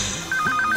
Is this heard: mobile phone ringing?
yes